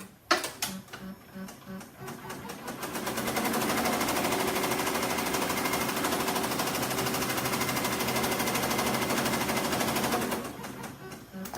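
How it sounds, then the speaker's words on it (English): An embroidery machine sews a tack-down stitch on a red appliqué piece, with a few short starting stitches followed by a loud, steady, rapid mechanical hammering that runs for several seconds and then stops. "we're going to sew the tack down"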